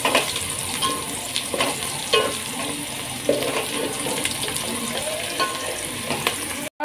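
Whole spices, cumin, cloves, black pepper, cinnamon, green and black cardamom, fry in hot oil for mutton pulao, a dense continuous sizzle with scattered pops and stirring scrapes, close and fairly loud, then cutting off abruptly at the end.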